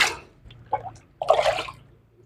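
Water is poured onto pap grains for washing, giving a few short, close splashes and trickles separated by brief pauses.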